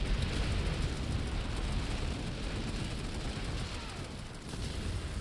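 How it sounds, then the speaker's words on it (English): Gunfire in the Planetside 2 video game on PS5: dense, continuous shooting and blasts fill a noisy battlefield mix without a break, loud and up close. "What is that shooting in here?"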